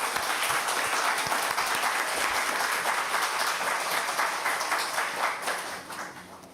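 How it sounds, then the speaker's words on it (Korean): A congregation at a Sunday worship service at a Korean church in Osaka applauds warmly, continuous crowded clapping that holds steady and then tapers off toward the end. "우리 큰 박수로 맞이해 주시겠습니다."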